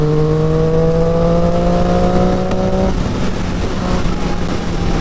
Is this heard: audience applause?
no